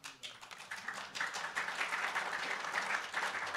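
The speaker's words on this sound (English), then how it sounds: "they all deserve a round of applause" Convention audience at a Libertarian Party gathering bursts into applause that swells after a soft start and holds steady as a dense crowd of clapping, with faint voices beneath.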